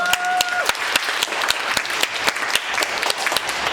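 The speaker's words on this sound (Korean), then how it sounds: "수고해주신 회장님께 박수 한번 부탁드립니다." An orientation audience applauds the club president, a loud close burst of separate rhythmic claps. A voice speaks briefly at the very start.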